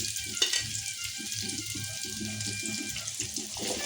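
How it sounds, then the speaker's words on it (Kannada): Sliced okra mixed with salt frying in oil in a home kitchen, a steady crackling sizzle with occasional stirring clatters and soft clicks, close and continuous. "ಈಗ ಇವನ್ನ ಎಣ್ಣೆ ಹಾಕಿ ಹುರ್ಕೋತೀನಿ."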